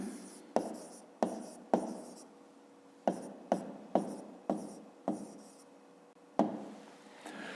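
Pen strokes scratch across paper as a math solution is written out by hand, a series of short, sharp scribbles and taps repeating in an irregular rhythm, close and fairly quiet with no talking.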